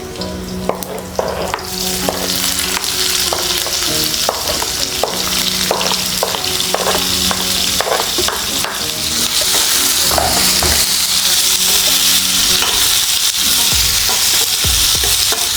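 Onions frying in a pan for a Goan squid masala, a steady loud sizzle broken by repeated scraping and clacking strokes from stirring, with no talk.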